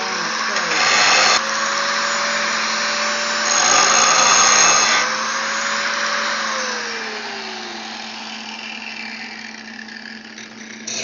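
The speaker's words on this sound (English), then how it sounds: "Maybe I need to grind out a hunk of weld that fell down the side." An angle grinder grinds a lump of weld off metal, a loud, close whine rising and falling as the disc bites and eases off, fading toward the end with some background talk.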